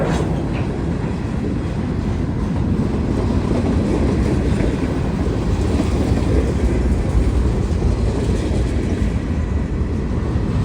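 A CSX or Norfolk Southern freight train rolls past close by, with a steady loud rumble and rhythmic clattering of wheels on the rails throughout.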